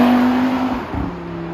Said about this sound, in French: Je savoure, je déguste ce moteur 5 cylindres.